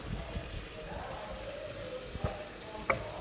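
Crushed garlic and ginger sizzle steadily in hot oil in a pan while cooking an egg curry, a soft even frying hiss with a few faint clinks.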